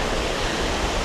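Steady rushing water from a small waterfall near Thirlmere on the Helvellyn route, a dense continuous splashing hiss with no voices.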